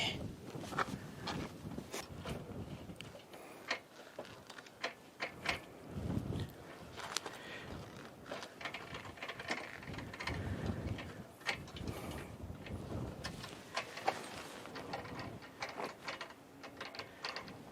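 A black delta trike is pedalled by hand, turning sprockets and a motor as the locking collar tightens, giving irregular mechanical clicks, ratcheting and gear rattles with uneven bursts, close by and without speech.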